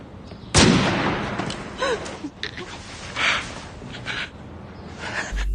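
A sniper gunshot in a film set on an empty street in Syria cracks out loudly once near the start, followed by a lingering, tense ambient tail with faint scattered sounds.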